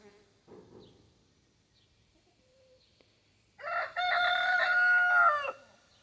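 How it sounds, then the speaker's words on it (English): Hens fighting in a coop break into a sudden burst of loud, harsh squawking and cackling lasting a couple of seconds after near silence with faint distant calls. "the hens are in there fighting each other"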